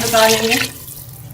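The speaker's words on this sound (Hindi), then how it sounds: "अब हम इसमें पानी शामिल कर लेंगे।" Water pours into a cooking pot holding tenderized chicken for a Pakistani-style chicken pulao, a short splashing rush under a man's speech that stops abruptly partway through.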